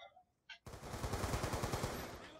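Rapid automatic gunfire from the Black Ops 2 video game bursts in after a couple of faint clicks, a fast, loud, steady stream of shots lasting almost two seconds.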